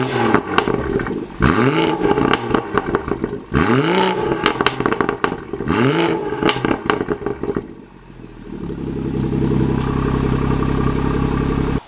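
A BMW 340i with BMS exhaust tips and dual resonator deletes revs hard three times in sharp rising-and-falling sweeps, loud and close, with crackling pops between, then settles into a deep steady idle rumble.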